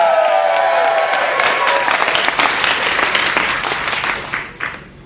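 Loud audience applause at a live Thursday Red Team comedy and music show, a full burst of clapping that gradually thins and fades out.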